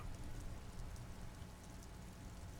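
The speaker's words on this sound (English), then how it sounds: "Standing in the rain" Steady rain falls in an urban harbor-side setting in the video game Disco Elysium, a dense, even hiss of drops on surfaces with low rumble underneath, continuous and unbroken throughout.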